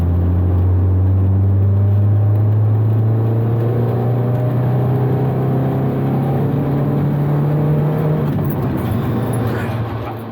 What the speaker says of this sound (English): K-series engine really needs to be revved highly.